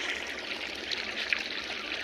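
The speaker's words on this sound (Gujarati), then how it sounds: "ફાઇનલી આપણું પાણી આવી ગયું છે." Water from a pump pours and trickles steadily into a farm field, a soft continuous splashing flow heard close by, with no talking.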